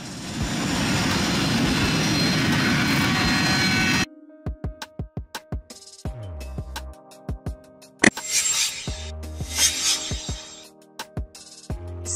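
A private jet roars loudly and steadily for about four seconds, a dense, broad whoosh that then cuts off abruptly, giving way to scattered sharp clicks and ringing tones.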